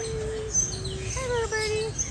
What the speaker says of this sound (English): Here's some little birds.